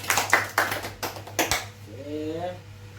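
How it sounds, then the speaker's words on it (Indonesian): Students in a classroom clap their hands in a short burst of several sharp, near claps over a steady hum, followed by a voice speaking. "Tepuk tangan dulu untuk Tuhan"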